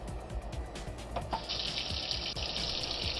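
Cold tap water runs into a sink, starting with scattered splashes and knocks before a steady, bright hiss of gushing water takes over and keeps going.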